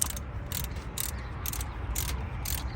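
Torque wrench ratcheting in a steady series of quick clicks while tightening a bolt on a Mustang engine during belt work, faint and close, about six evenly spaced bursts over a low background hum.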